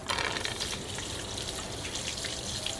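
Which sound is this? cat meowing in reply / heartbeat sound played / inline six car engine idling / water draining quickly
water draining quickly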